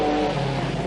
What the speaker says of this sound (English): Tony Pond in the Talbot Sunbeam.